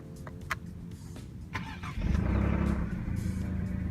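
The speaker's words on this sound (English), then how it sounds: "To start the car, push this button after you push brake" A 2017 Alfa Romeo Giulia started by push button: a starter crank rising into a firm engine catch near the middle, then a steady, loud idle rumble close by.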